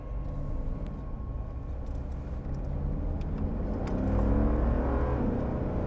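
Mercedes G-Class 6x6 accelerating, heard from inside as a deep steady engine rumble that swells gradually, with road and cabin noise underneath.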